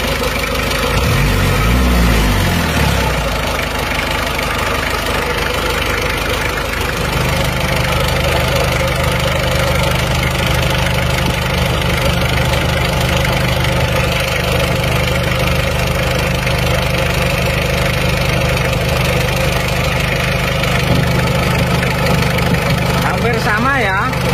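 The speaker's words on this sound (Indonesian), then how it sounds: "Suara mesin." An Isuzu Panther 2.3 diesel engine idles steadily and loud, a continuous low rumble with a faint knocking texture, while a voice talks over it.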